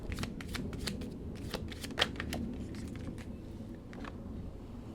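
Tarot cards shuffled and dealt from a deck during a reading, a soft continuous riffle with several crisp card snaps and flicks, close and alone with no talking.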